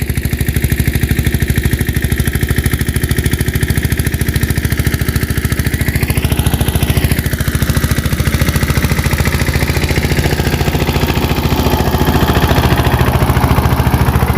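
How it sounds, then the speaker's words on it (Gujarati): A mini tractor engine running steadily while sowing soybeans in a field, a loud continuous rumble that holds even throughout. "મિની ટ્રેક્ટરથી વાવેતર કરી હતી"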